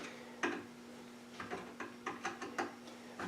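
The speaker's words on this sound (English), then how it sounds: "yes, I am using a standard screwdriver because I don't have a gunsmithing screwdriver" A standard flat screwdriver works a small screw on a Winchester Model 54 rifle, giving a series of faint, close metallic clicks and scrapes spaced irregularly over a quiet background hum.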